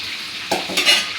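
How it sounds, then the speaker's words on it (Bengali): Prawns lightly frying in oil, a short close sizzle with a couple of quick stirring scrapes in the pan. "খুব বেশি ভাজবো না হালকা ভেজে নেবো একদম হালকা ভেজে নেবো"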